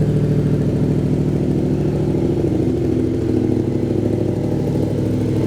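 A 2022 Yamaha R7 motorcycle with an SC Project titanium exhaust idles steadily and loudly up close, its rough, slightly uneven rumble running alone and unbroken throughout.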